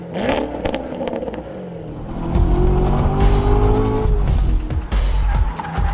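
A Chevrolet Corvette C7 with the dual-mode performance exhaust, four tips and valved mufflers growls loudly, its engine note rising and holding through revs, with a tire squeal and a brief dip before it surges again.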